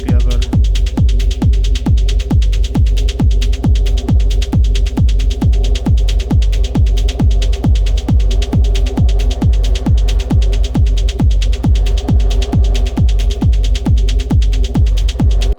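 Arturia MicroFreak synthesizer preset playing a steady, loud, throbbing low pulse that repeats about three times per second without a break, over a constant buzzing hum, with no voices.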